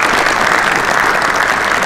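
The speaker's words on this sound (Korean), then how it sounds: "다시 한번 박수 한번 크게 한번 보내 주시기 바라겠습니다" Steady applause from a large crowd at an LG Twins baseball event, dense continuous clapping that fills the whole moment without pause.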